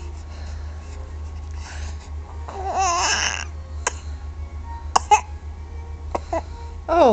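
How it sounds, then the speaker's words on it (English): A baby coughs and babbles close by in a quiet room over a low steady hum, with a few short sharp coughs and vocal sounds spread through the moment. "You were coughing."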